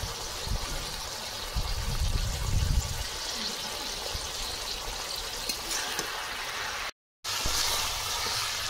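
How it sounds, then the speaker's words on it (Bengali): Mustard oil trickles into a simmering shukto of bitter gourd, potato, puti fish and rohu belly pieces: a steady liquid hiss and sizzle runs throughout, with a brief break near the end. "নামানোর আগে সর্ষের তেল দিয়ে দিচ্ছি"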